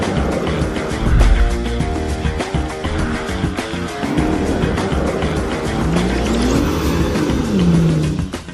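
A rally car power sliding on a slippery road, loud engine revving and rising and falling in pitch with tire noise, continuous and close throughout.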